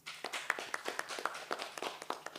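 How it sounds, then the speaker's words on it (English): An audience at an aerospace engineering career talk claps, a quick scatter of sharp hand claps coming close together and fairly near, with no talking over it. "please clap for yourselves"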